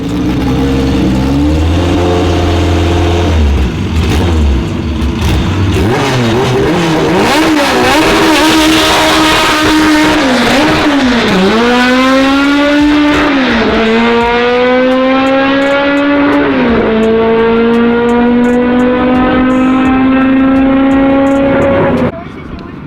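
A 450whp Honda race car on a 200 shot of nitrous makes a loud close pass, its engine revving hard through several gear changes with rising pitch before cutting off at the end.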